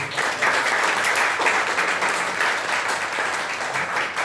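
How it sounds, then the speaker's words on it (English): Students in an institute classroom applaud together, a steady dense clapping that holds at even loudness throughout, close by and filling the room with no talk over it. "Can we all clap for them for giving us that?"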